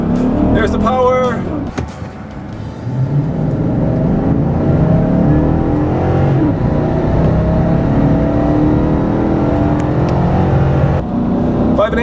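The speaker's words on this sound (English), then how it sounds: "Give the engine a little bit of gas and let go. There we go, full throttle." A 2014 Chevy Silverado pickup pulls hard at full throttle, its engine roaring loud and close as the pitch climbs through a long, sustained acceleration, with a brief dip between gears and a voice talking over it.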